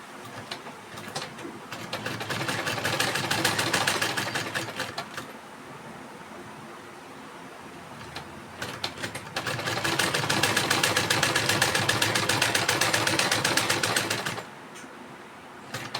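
A sewing machine runs straight stitches along a double-folded hook strip on a blouse, in two steady mechanical bursts of a few seconds each, separated by a quieter pause, with no talking.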